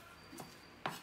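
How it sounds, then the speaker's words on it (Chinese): A knife cutting through a folded egg pancake on a wooden cutting board, two quick, close chops, the second sharper and louder, with quiet surroundings between them. "我把鸡蛋饼对半切开"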